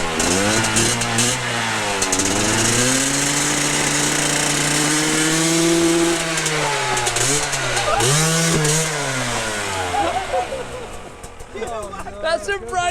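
A hard enduro dirt bike engine revs loudly and close, pitch sweeping up and down through sustained high-revving bursts, with people talking over it and the engine easing off near the end.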